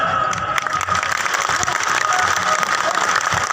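A festival crowd at the Teja Darshan Mahotsav in Barmer applauds with dense, steady clapping that stays loud and continuous for a few seconds, mixed with scattered crowd noise and some cheering.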